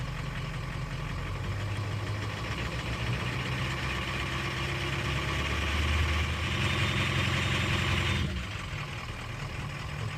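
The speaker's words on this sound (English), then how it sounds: "I'm going to give a little bit of throttle here." A 2003 Ford 6.0 Powerstroke diesel engine runs at a steady idle, then rises slightly under a little throttle before settling back. The low rumble is continuous and close, with no talk.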